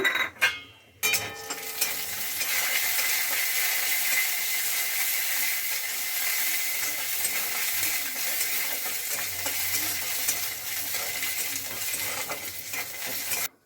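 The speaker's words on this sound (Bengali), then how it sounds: "আমার তেলটা গরম হয়ে গেছে, আমি বাদামগুলো ভেজে নেব খিচুড়িতে দেওয়ার জন্য" Continuous crackling sizzle of peanuts frying in hot oil, with occasional scraping stirs at the start; no talking.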